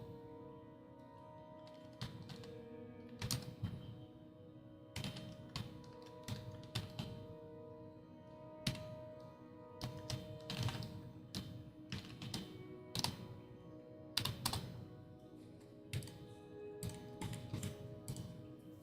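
Keyboard typing in short irregular bursts of clacking keystrokes with pauses, close-up over a faint steady hum, no voices.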